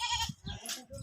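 A goat bleats nearby in a short burst of wavering calls, loud and close, with no other sound around it.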